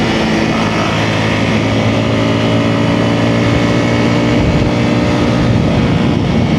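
A Honda CRF300L supermoto motorcycle rides on the Blue Ridge Parkway, its engine droning steadily under heavy, constant wind rush, loud and close.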